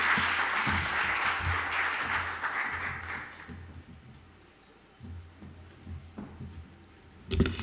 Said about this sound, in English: Another round of applause for Jeff Gable.